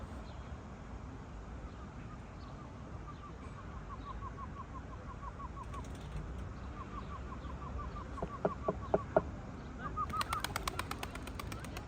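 Outdoor ambience with faint bird calls, then a few sharp wing claps followed by a rapid burst of flapping wings as a male tumbler pigeon takes off nearby, tumbling twice.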